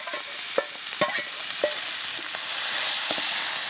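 Chicken meat dropped into a hot frying pan with curry leaves and bay leaves: a bright, constant hiss of frying with scattered clicks and scrapes of stirring, close up and without voices.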